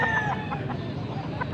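Chickens cluck and squawk at a wet, rainy poultry market in Pampanga, a few close bird calls standing out over a busy background murmur.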